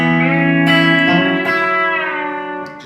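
Electric guitar fitted with a B-bender, a sustained ringing chord whose pitch glides smoothly as the bender moves from one position to the next, loud and close, slowly fading out.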